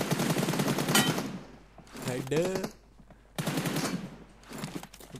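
Gunfire in the PUBG Mobile video game comes as sharp bursts of shots. Excited Hindi-speaking voices talk over and between them.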